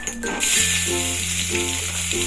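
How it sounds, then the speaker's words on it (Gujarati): Mustard seeds, cumin, a pinch of asafoetida and ginger-chili paste hit hot oil in a pan, bursting into a loud, steady sizzle with a rhythmic stirring scrape over it, close and with no talking. "તો આપણે એમાં નાખશું રાઈ, જીરું, થોડીક ચપટી હિંગ, પછી નાખવું આપણે આદુ મરચાંની પેસ્ટ"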